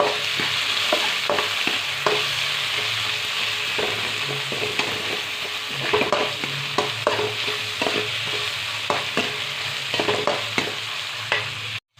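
Onions sautéing in a pan for broad bean sambar, a loud continuous sizzle with frequent spoon scrapes and taps against the pan, close up and without voices, cutting off abruptly at the end.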